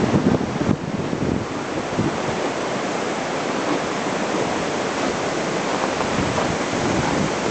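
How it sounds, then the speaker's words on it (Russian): Storforsen waterfall in Sweden roars as a steady, dense rush of whitewater that fills the whole clip with unbroken noise and no voices. "Такие они, водопады Старфорса."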